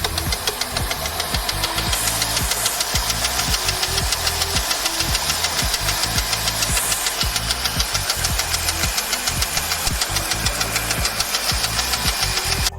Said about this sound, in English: he changed the belt himself and it was still making noise